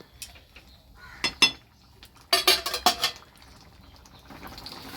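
Prawn and jackfruit curry stirred in a cooking pot after water is added for gravy, heard as a few quick metal spoon scrapes and clinks against the pot in short clustered bursts, close up, with no talking.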